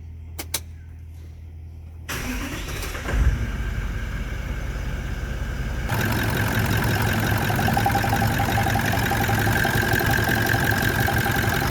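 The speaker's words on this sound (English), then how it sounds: "start the engine" A car engine is started and settles into a steady idle, with a few clicks before a loud cranking start, then a continuous hum that grows fuller and louder.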